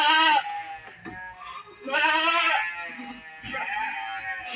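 A newborn Etawa goat kid bleats three times in a row, loud, close and wavering, with brief pauses between the cries.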